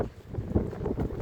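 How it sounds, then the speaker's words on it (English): Gusty wind with light drizzle at a November football match buffets the microphone with a low, rumbling roar, steady and fairly loud with a few stronger surges. "It's windy and there's a little bit of drizzle"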